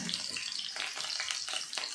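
Chopped radish, garlic and chili sizzling in a pan over low flame, with a steady hissing crackle and a few louder spits, close by and without talk.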